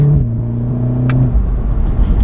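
A 300bhp Volkswagen Golf R accelerates and drops in revs as it shifts up through the gears, a close, loud engine note stepping down mid-clip, with a sharp click and road rumble following.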